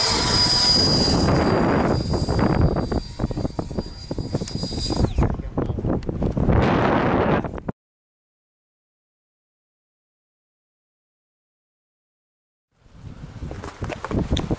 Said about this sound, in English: after that flight, I've got both of the Black Tigers, and this is the one that's been flying